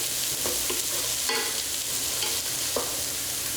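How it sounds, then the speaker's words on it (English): Diced onion, celery and carrot sauté in olive oil with a continuous close sizzle, broken by a few short scrapes and stirs of the spoon in the pan. "Then saute those jokers until they're soft and the onion is translucent"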